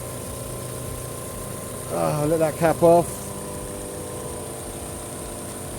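Rover K-series VVC engine ticking over at idle with a steady low hum and faint whine, while a person speaks briefly over it midway.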